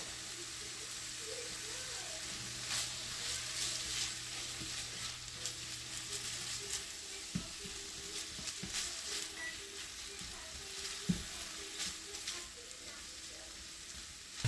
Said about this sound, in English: We do want to make sure we flavor this as we brown it